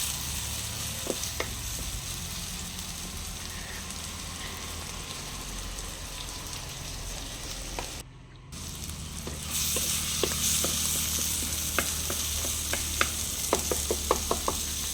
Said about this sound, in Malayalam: പച്ചമുളകും ഇനി തക്കാളി ഇട്ട് കൊടുത്ത ശേഷം ഒന്ന് മിക്സാക്കി കൊടുക്കാം.